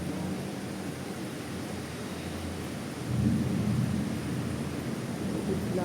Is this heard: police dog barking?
no